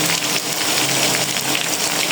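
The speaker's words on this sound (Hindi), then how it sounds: "चिकन हमारा फ्राई हो गया। अब इसमें डालेंगे टमाटर" Tomatoes go into chicken frying in a pan for a cauliflower and meat curry, setting off a loud, dense, steady sizzle that crackles close up without any talk over it.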